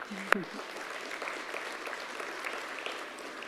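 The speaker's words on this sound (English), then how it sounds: "I just want to give you all a big round of applause" Audience applause at the Saskatoon State of the City address, clapping for the local business community. A soft, even wash of clapping continues throughout, with a brief vocal sound near the start.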